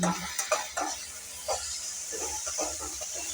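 Methi (fenugreek) and other ingredients frying in a pan for a palya, a steady close sizzle with intermittent stirring scrapes, no voices.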